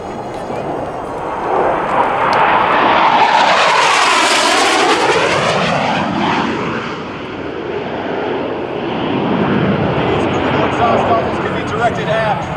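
A Harrier jet roars past at an air show, its engine noise building loud to a peak around the midpoint with a sweeping Doppler pitch shift, then fading and swelling again, dominating throughout.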